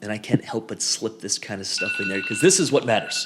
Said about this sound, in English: I got a phone call coming in. That's my alarm for the phone call.